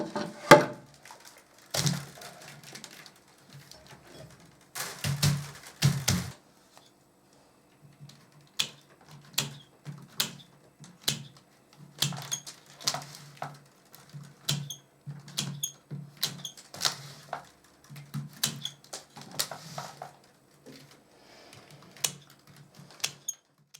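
Sharp woody clicks and snips come in an irregular run, some clustered and some spaced apart, as French randed basket weaving work is fastened and trimmed, all close and clear with no talking.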